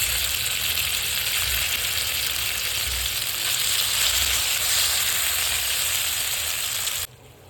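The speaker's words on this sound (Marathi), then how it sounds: "खवा आता आपल्याला मस्तपैकी भाजून घ्यायचा, याच्यामध्ये मिक्स करून घ्यायचं" Khoa roasting in melted ghee fills the pan with a loud, dense, unbroken frying hiss that runs steadily for several seconds, then cuts off abruptly near the end.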